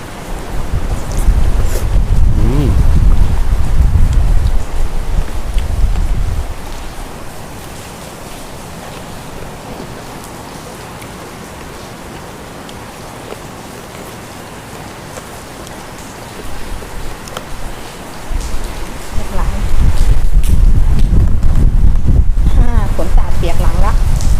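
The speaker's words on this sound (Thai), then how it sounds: "ลมแรงมากเลยครับ วันนี้" Strong gusts roar and buffet loudly during a rainstorm at the start and end, easing to a softer rushing wash in the middle.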